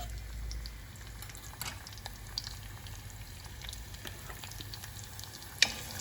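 Vegetables fry gently in still-warm oil in a pot for a tripe stew, giving a soft, low sizzle with scattered small crackles and one sharp clink near the end.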